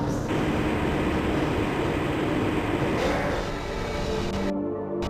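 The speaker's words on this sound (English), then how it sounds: "This train is inbound from the Area 8 topside dormitories to the Central Transit Hub in Area 9." Steady rumbling roar of a Black Mesa transit tram in Half-Life: Blue Shift, running on continuously without voices, with the sound cutting off abruptly near the end.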